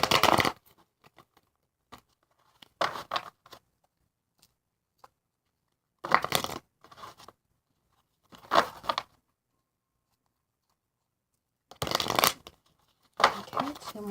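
Several separate bursts of rapid tarot card shuffling, crisp riffling flurries broken by quiet pauses, close and fairly loud.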